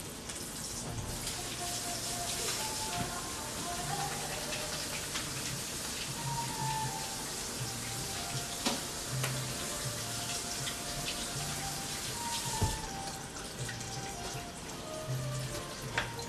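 Water runs from a tap while hands are washed, a steady splashing hiss that continues throughout at moderate level, with faint clunks and brief shifts in the flow.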